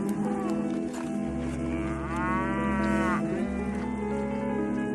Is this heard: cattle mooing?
yes